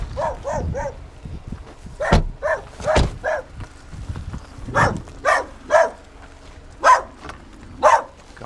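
A dog barks in short, separate bursts spread across several seconds, fairly close by, over faint background noise and without talk.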